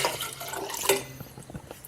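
Water splashes and pours for a Polish sour rye soup, żurek, in a brief run of liquid with small drips and clinks, fairly close and with no voices.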